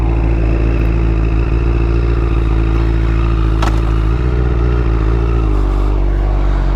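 Honda CBR1000RR sportbike with 53,000 miles, heard while riding: loud, close engine roar with throttle shifts and a brief quick-shift change in pitch, continuous with no speech.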